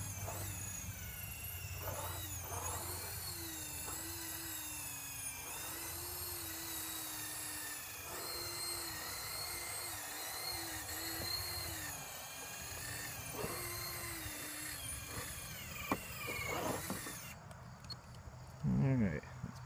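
An RC4WD Warn 1/8 scale winch motor whirs steadily up close, its pitch rising and falling as it pulls, with a few knocks near the end.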